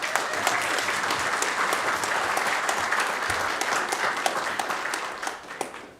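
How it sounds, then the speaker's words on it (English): Council meeting audience applauding steadily and densely for the full stretch, a sustained wash of many hands that thins slightly near the end. "Please give a big round of applause for Dr."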